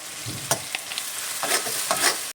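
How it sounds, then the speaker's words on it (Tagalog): Eggs and onions fry in a pan with a continuous close sizzle, punctuated by several sharp spatula scrapes and taps against the pan, with no voices over it. "Magluto ako ng itlog, sibuyas, yung black pepper at saka salt"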